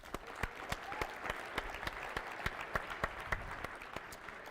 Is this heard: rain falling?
no